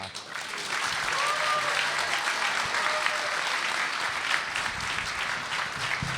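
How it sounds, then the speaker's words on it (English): Audience applause at a Scifiworld convention panel in Gothenburg, a sustained, full wash of many hands clapping from a large crowd, close and loud, with occasional voices faintly mixed in. "keep that applaud up for Anthony Daniels"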